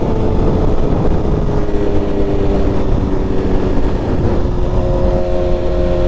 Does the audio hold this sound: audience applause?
no